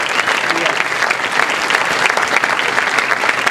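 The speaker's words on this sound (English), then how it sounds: "let's give you a round of applause for the wonderful work that you do" Crowd applause at a university forum on a state tax bill, honoring staff for their work; steady, loud, dense clapping from many hands throughout, with no pauses.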